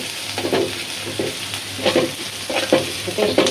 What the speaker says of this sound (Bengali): আদা আদা ভাজা ভাজা হোক, তারপরে একে সব কিছু দিয়ে দেবো।